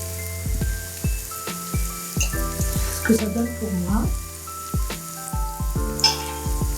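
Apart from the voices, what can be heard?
onions frying with vegetables and rice in a pan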